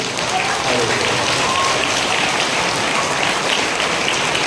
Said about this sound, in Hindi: ईश्वर के लिए जोरदार ताली बजा दीजिए।